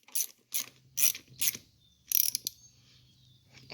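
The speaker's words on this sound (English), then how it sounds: "then you get your wrench and you just crank them all down" A wrench ratchets bolts tight on a Cub Cadet 1720 tractor transmission in a series of crisp, close clicking bursts: four quick strokes, a pause, then a longer ratcheting run against a quiet background.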